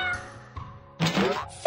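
A cartoon cat in a kids' puzzle video game gives a couple of short, clear meows with brief electronic game sounds between them, close and distinct.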